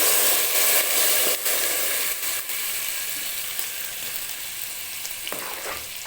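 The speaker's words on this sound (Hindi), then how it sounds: "ये जो बटर हमने बनाया है ये सारा इसमें ऐड करना है" Homemade butter sizzles loudly in a pot as it cooks down into ghee, a dense continuous frying hiss close by with occasional spatters.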